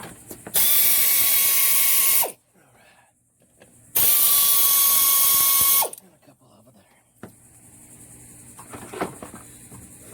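Pneumatic air ratchet spinning out alternator bolts on a mobile welding truck, two loud sustained high-pitched screaming bursts of about two seconds each, separated by quieter shop background, with faint clicks afterward.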